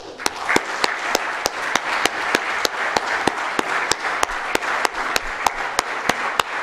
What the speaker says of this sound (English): Please join me in applauding.